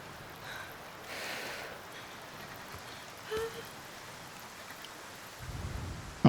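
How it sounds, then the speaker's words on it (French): Rain falls steadily outdoors as a soft, faint hiss, with a couple of brief louder patches and a low rustle toward the end. "Quel enfer cette pluie."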